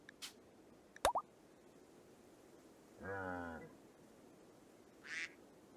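A duck quacks in the RimWorld video game, one nasal buzzing quack in the middle, framed by short plops and a faint chirp, clean and isolated over quiet background hiss.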